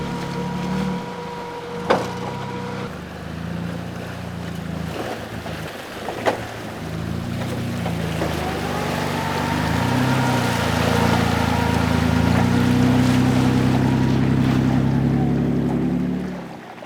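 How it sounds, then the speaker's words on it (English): Jeep with a damaged front end crossing a river in the Kimberley: a steady low engine drone with rattling and clunks, water sloshing and wind, rising in loudness midway, with two sharp knocks early on. "there's a lot of noise coming from the front end"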